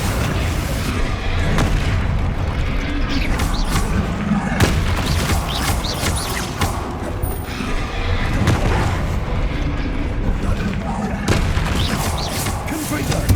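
Explosive spells in Hogwarts Legacy go off as repeated heavy booms and blasts over a constant dense rumble of combat, loud and layered throughout.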